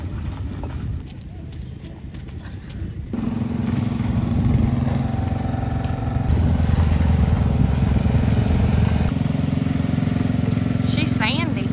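Mule utility vehicle engine droning steadily near a horse rescue on tundra ground, a low motor hum that grows louder as it drives around, with people talking over it.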